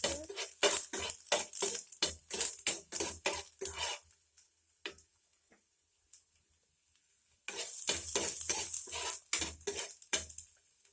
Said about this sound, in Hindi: प्याज को डालने के बाद अच्छे से सॉट कर लीजिए।